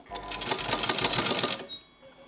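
A sewing machine runs a line of stitches along a blouse edge with thread piping, giving a quick rhythmic needle chatter for about a second and a half before stopping.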